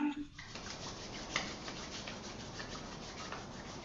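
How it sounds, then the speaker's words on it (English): Palms rub briskly together during a hatha yoga class, a soft, close, continuous dry brushing sound. "And then rubbing the palms together."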